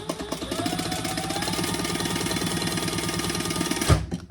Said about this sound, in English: bring that up to the top, just shy of the top, and stitch across the top